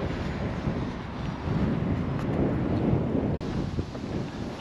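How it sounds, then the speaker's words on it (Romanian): Strong, cold wind blowing outdoors at a fishing spot by clear water, a loud continuous roar of buffeting wind noise on the microphone with no speech, briefly cutting out for an instant. "Bate vântul foarte tare, dar apa arată extraordinar."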